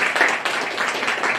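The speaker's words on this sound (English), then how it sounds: "let's clap for Knchr" Audience applause at a Kenya National Commission on Human Rights celebration, a brief burst of dense clapping lasting barely over a second, fairly close and even.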